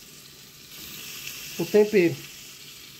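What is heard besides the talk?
chicken being shredded and stirred in a hot pan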